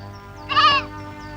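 A goat gives a single short, nasal bleat, close and clear, over a steady low hum in the background.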